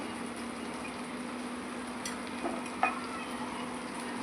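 Spices including turmeric, red chili and coriander-cumin powder sizzle softly in a pan for methi masoor dal, a faint steady fry with a few light scrapes of a stirring spoon.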